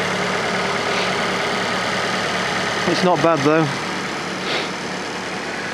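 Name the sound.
Fiat Panda 4x4 Sisley engine idling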